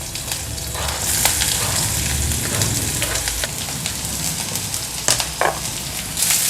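Onions drop into a pan of hot oil with ginger garlic and sizzle loudly and continuously up close, with a dense crackling hiss and a few stirring knocks.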